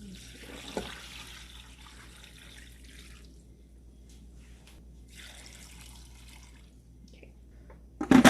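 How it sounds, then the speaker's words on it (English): Water runs into a pot of noodles being filled, a soft steady trickle and splash in a home kitchen, with a brief knock near the start and a louder clatter at the very end; no talk. "I'm going to fill this to just below the noodles with water."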